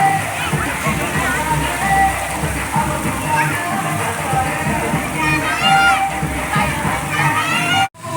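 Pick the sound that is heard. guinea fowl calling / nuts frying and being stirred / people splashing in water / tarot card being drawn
people splashing in water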